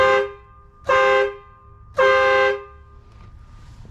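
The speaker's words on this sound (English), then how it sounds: "Way louder than the OEM horns." Newly installed aftermarket air horns on a car, mounted behind trim, blare in three loud bursts: a short first toot, then two longer blasts about a second apart, each clear and tonal against quiet idle noise.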